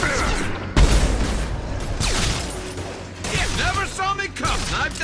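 Sniper rifle fire in Mass Effect 2 Legendary Edition, sharp loud booming shots at irregular intervals amid explosive game effects, with voices speaking between the blasts.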